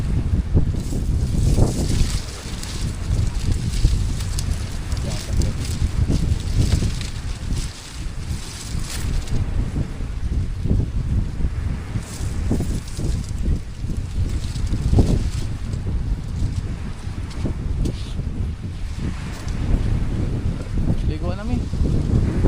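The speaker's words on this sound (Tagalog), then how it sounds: "kasi mahangin dito" Strong wind buffets the microphone at a seaside shore in Pandan, Antique, a steady loud roar with gusting surges throughout, and voices talk faintly now and then beneath it.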